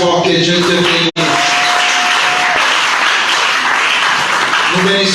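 A church congregation applauding loudly and continuously, a dense close roar of clapping with a brief cut and a voice faintly audible beneath.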